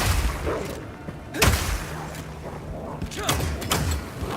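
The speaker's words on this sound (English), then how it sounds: "This attachment is a flash grenade." A flash grenade goes off in the Path of Exile 2 video game: a sharp burst of impact near the start, then further blasts and mechanical clanks over a continuous rumbling game soundscape.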